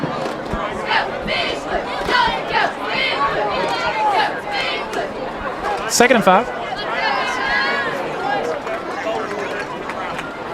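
Spectators from Mabank cheer and shout at a Texas high school football game against Sulphur Springs, a lively roaring crowd with swelling yells, heard beneath a commentator's talk.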